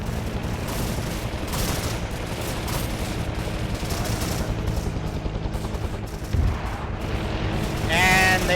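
Mortar and artillery explosions in a Vietnam War video game, a steady barrage of loud booms and gunfire with a stronger blast near the end, under faint radio chatter.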